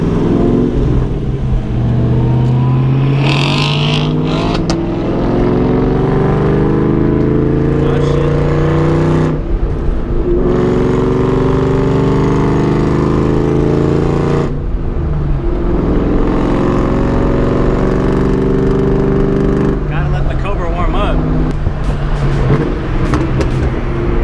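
Loud sports car engines, a Corvette and a Cobra, idling and revving at a traffic light, a heavy continuous rumble with repeated throttle swells and brief drops, close and dominant while people talk over it.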